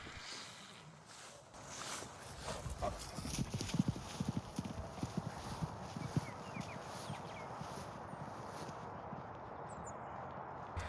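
A horse out on pasture, with soft, uneven hoofbeats thudding through steady outdoor background noise, moderately close, and no voices.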